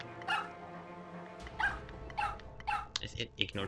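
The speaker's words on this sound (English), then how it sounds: "Ignore the barking." A dog barks several times in short, sharp bursts from a little way off, mixed with background voices and household noise.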